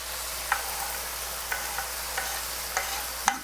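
Onion fries in a pork pan with a soft, even sizzle under a handful of light utensil clicks against the pan, close but quiet, with no voices.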